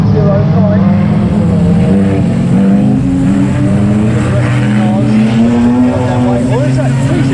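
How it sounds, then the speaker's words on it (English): Race cars roar through a turn one after another, loud engines rising and falling in pitch as they pass, with commentary running over the continuous motor noise. "The rest of the cars go racing through 323."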